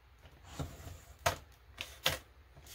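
Paper is cut for short cash envelopes: a few crisp, separate snips spaced about a second apart, close and fairly quiet, with no talking.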